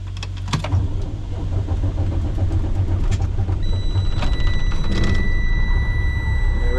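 A New Holland T8050 tractor engine starts up close by: a short burst near the start gives way to a loud, steady low diesel rumble, with thin whining tones joining partway through.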